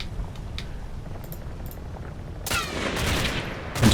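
Massed gunfire from many soldiers in a Combat Mission: Battle for Normandy fight, faint scattered shots at first, then a louder burst of rapid crackling fire in the second half.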